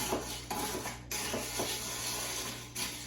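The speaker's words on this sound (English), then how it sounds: "then you're going to stir. And then keep stirring." Ice clinks and rattles against a glass as a mint julep is stirred, a steady close scraping and tinkling with a few sharper knocks and no talking.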